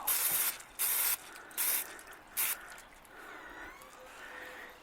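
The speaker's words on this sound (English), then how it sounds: "I often tip it upside down and spray, clean out the nozzle" Several short hissing bursts from a spray can held upside down to clear the nozzle, four in a loose rhythm, then a softer, steadier fizzing hiss with faint bubbling.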